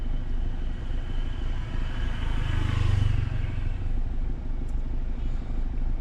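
Steady low engine rumble of a motorbike on the road ahead during a driving test drive, continuous and moderately near with traffic clatter, a brief swell midway.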